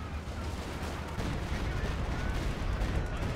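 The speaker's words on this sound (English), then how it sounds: "No, that was a good Stuka barrage." A Stuka dive bomber barrage in a real-time strategy game lands as a loud, continuous rumble of explosions and rattling gunfire that fills the whole stretch without a break.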